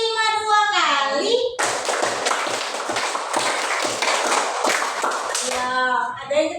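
Classroom children clap hands together in a counted clapping game, a long run of quick, crisp group claps lasting several seconds, bracketed by brief adult talk at the start and end.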